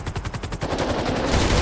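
Police rifle gunfire in the GTA 5 video game, a rapid burst of automatic shots in a fast regular rhythm, loud and close, blending into a continuous roar toward the end.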